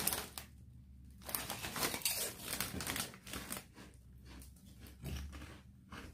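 Close, crisp crinkling of a plastic chips bag being opened, irregular rustles and crackles coming in bursts over several seconds, with no talking.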